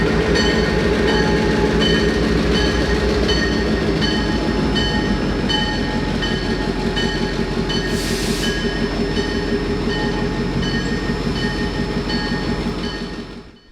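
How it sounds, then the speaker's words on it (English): A restored EMD F7 diesel locomotive built in Ontario in 1953, in Wabash paint, rolls past close by with a loud steady engine drone and rhythmic wheel clatter, with a brief hiss partway through. The sound eases off only at the very end. "This diesel is an EMD F7 type, built in Ontario in"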